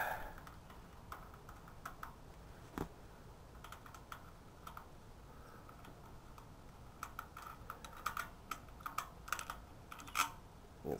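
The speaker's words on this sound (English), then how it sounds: "we're going to use our ratchet wrench here, our 12mm ratchet wrench, and we're going to take this off" A 12mm ratchet wrench loosens a bolt on a motorcycle, making faint, scattered clicks with short irregular pauses between bursts, close by and quiet.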